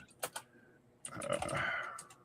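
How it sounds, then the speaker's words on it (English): Computer keyboard typing: a few separate keystrokes, then a denser, faster burst of clicks near and moderately loud, with a faint tone underneath. "Oops, I'm typing the wrong thing."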